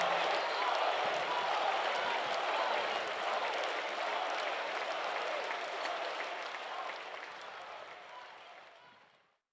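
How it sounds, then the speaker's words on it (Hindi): Loud applause from an audience at a public gathering, steady dense clapping that carries on for several seconds and then gradually fades out at the end. "आप जोर से तालियां बजाकर उनका फिर से अभिवादन"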